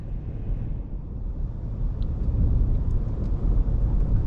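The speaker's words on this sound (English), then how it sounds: "You'd expect a pickup truck to ride all bumpy and stuff, but they have such a smooth ride." Steady low road rumble from a 2021 Ford F-150 XLT pickup truck driving, heard continuously from inside the cab, gradually swelling slightly louder with faint higher ticks and no talking.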